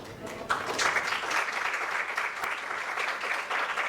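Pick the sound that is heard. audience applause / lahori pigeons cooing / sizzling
audience applause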